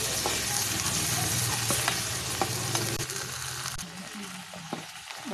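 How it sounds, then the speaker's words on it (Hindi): Garlic, green chili and ginger fry in ghee with cumin and asafoetida for a pearl millet khichdi masala. A steady, close sizzle runs throughout, with occasional scraping stirs, and no talk. "अब मैं ये लहसुन हरी मिर्च और अदरक डाल दूंगी और इसे मैं भून लूंगी।"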